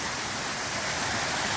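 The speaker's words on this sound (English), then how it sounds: "look at this waterfall, just up, up, up." A waterfall in Arkansas pours steadily, a dense hissing rush of falling water, even and fairly close, with no voices over it.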